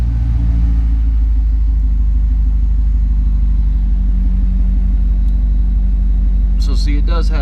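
A 2006 supercharged Chevrolet Corvette idles with a deep, steady exhaust rumble close by, loud and constant, and someone speaks briefly near the end.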